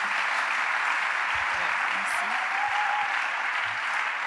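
A church congregation applauds the Lord in steady, dense clapping that runs unbroken from start to finish at moderate volume, with no voices standing out.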